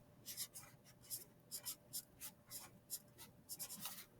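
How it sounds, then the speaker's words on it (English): A pen or pencil writing a word in a notebook, a short series of quick, faint scratchy strokes with small pauses between letters, close and soft against a quiet room. "what I'm going to do over here is write revising"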